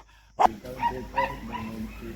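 A female Pomeranian with young puppies gives one sharp, close yelp, then a few short whimpering barks and whines in quick succession.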